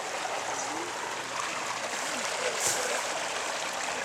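A babbling brook flows steadily outdoors, its broad, even rush of water continuous and fairly close, with small splashes and trickles and faint background voices now and then.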